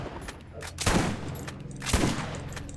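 A shotgun in Borderlands fires twice, about a second apart, each blast a sharp loud boom with a brief tail, amid game background noise.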